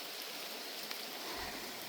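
Rain falling on the Appalachian Trail in misty weather gives a steady, dense hiss of drops that fills the short stretch without a break.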